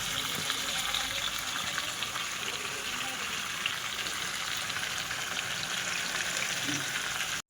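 Chicken with spices frying in a pan while being stirred, a dense, steady sizzle close by throughout, with occasional scraping from the stirring.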